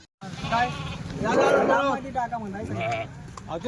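Goats and sheep bleat repeatedly at a busy livestock market trading Nizampuri sheep, the calls loud and close, overlapping with one another over a crowd of people talking in the background.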